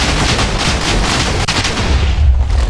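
Gunfire and blasts from the video game Warframe, a dense loud barrage of rapid shots and booms with a deep rumble building toward the end, no talk.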